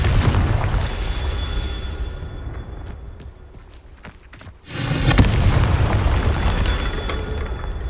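A Confringo explosive spell goes off in Hogwarts Legacy. A lull of low rumble breaks into a sudden loud blast, followed by a sustained roaring, crackling burst.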